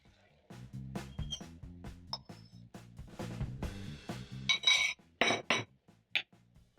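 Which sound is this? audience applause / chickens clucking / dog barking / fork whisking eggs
fork whisking eggs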